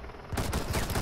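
Rapid automatic gunfire in the video game Rainbow Six Siege breaks out suddenly after a quiet start, a fast, steady string of close, loud shots.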